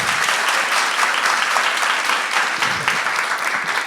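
A poetry showcase audience claps together on cue, a dense, loud, steady wash of hand claps that holds evenly for several seconds without a break.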